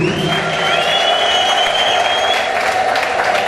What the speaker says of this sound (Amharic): ጭብጨባ እልልታ ለጌታ ስጡ።